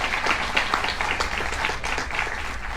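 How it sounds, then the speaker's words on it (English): Applause from a crowd of supporters at an outdoor civic gathering about a veranda project in Cupertino, a steady dense patter of many hands clapping at moderate distance throughout. "And now you can give them a round of applause."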